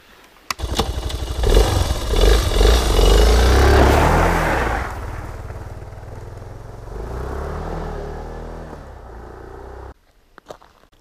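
Motorcycle engine starting, then revving loudly and pulling away from a campsite, the roar fading to a steadier, more distant drone before cutting off near the end.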